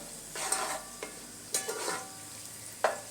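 Onions frying in a pan, now half browned, a faint steady sizzle broken by a few sharp stirring scrapes and clinks of the utensil against the pan.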